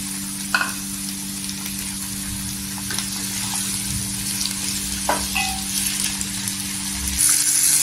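Chopped tomatoes sizzling steadily in hot oil in a pan after softened golden onions, with a constant frying hiss and occasional light clinks of a spoon against the pan.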